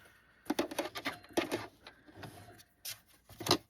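A home sewing machine stitching a bag runs in short, uneven bursts of rapid mechanical chatter separated by brief pauses, close and fairly quiet.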